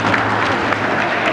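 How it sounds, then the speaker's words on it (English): Audience at a hall of fame ceremony applauding and cheering, a dense continuous wash of clapping filling the room for a brief moment. "I thought that would bring a cheer."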